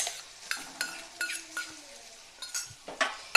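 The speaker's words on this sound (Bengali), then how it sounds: "এই পেস্টটা দিয়ে আমি মোটামুটি তিন মিনিটের মতো কষিয়ে নেব" Spiny gourd (kakrol) pulp paste is sautéed and stirred in a pan: a spatula scrapes and clinks against the metal in irregular strokes over a soft sizzle, close up, with no talking.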